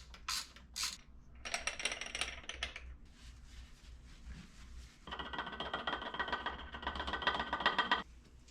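A ratchet loosens a 17 mm bolt on the oil filter housing of a BMW E36, giving close bursts of rapid clicking separated by short pauses and light metal handling, with no talking.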